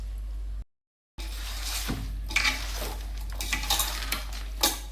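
Fish being mixed by hand with oil, green chillies, onion pieces, coriander, ginger-garlic paste, turmeric and chilli powder in a metal vessel for Telangana-style fish curry, giving soft clinking and squishing sounds after a brief silence.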